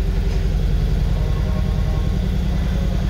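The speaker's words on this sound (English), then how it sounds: "this is the cold start," A Mercedes S63 engine at cold start, revving up to about 1800 rpm, gives a steady, loud, close low-pitched rumble with a dense engine drone that holds throughout.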